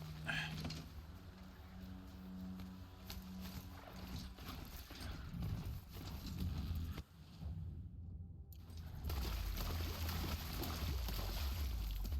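Steady mechanical hoofbeats of a robot horse in the video game Horizon Zero Dawn clop along under a dense, droning game soundtrack, with a brief drop in sound before it resumes louder.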